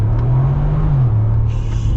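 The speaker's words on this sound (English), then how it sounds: "This is just to demonstrate the power of the 4-liter." The 4-liter V8 of a 2025 Mercedes G-Wagon accelerates with a deep, steady engine drone whose pitch holds, dips slightly, then settles. The sound is close and continuous, with no voices.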